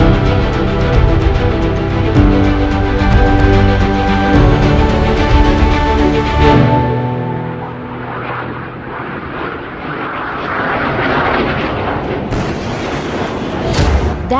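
Supersonic military aircraft passing overhead, a loud sustained roar with a deep booming rumble that swells for several seconds, then fades into a softer, lingering rumble.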